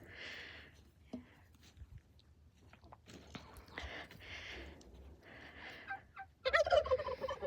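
Turkeys gobble on a farm, several bursts of rapid, rattling calls spread across the clip at moderate distance, with a louder flurry near the end and soft background activity.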